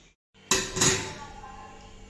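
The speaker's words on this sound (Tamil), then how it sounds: "இப்போ ரெண்டு பானையும் எடுத்து அடுப்பில் வச்சுட்டேன்" A single clunking set-down of clay cooking pots onto a stove in a home kitchen, a sharp knock followed by a second contact and a brief ringing decay, with no talk.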